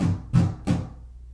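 Three short muted guitar strums, strings held and damped under the fretting hand, each a dull percussive chunk with a quick decay, evenly spaced and close, no voice over them.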